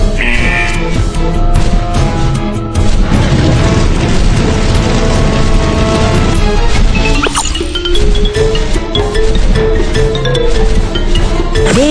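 Fire breath attack in the Panda Kiki superhero cartoon game, a loud roaring whoosh with crashing effects layered over game music and jingles, sustained and busy throughout.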